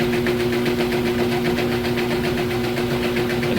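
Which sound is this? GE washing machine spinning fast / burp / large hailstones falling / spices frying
GE washing machine spinning fast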